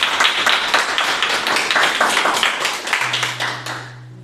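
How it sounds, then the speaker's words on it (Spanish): Applause from a church congregation, a steady wash of many hands clapping close by that tapers off near the end, with a low hum entering late. "¿Cuántos pueden darle un fuerte aplauso al Señor?"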